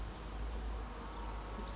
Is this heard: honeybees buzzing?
yes